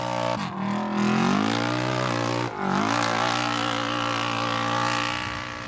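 A Polaris side-by-side rally car races in the Gold 400, its engine revving loud and close with rising and falling pitch and a brief dip before climbing again.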